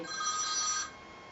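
A telephone rings once, a bright electronic ring that holds for under a second and then stops, close and fairly quiet.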